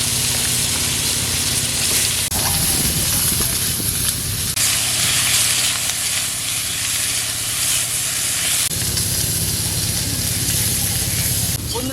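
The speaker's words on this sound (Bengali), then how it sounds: "এই মাছের তেলেই বেগুন ভেজে নেব" Brinjal pieces frying in oil left from frying bata fish, a loud hissing, steamy sizzle that swells and fades in stages, with crackling bursts close by.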